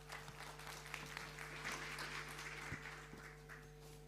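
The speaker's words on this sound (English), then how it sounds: "A hearty round of applause for him." A faint, steady round of audience applause for a speaker at a celebration, heard alone over a low electrical hum.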